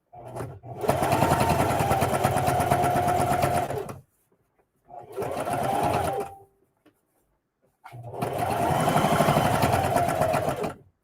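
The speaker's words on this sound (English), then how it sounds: "So when I come to the edge, I'm just sewing the edge down pretty much." A sewing machine stitches a lunch tote bag in three loud, steady bursts of rapid needle clatter, each run separated by brief silent pauses.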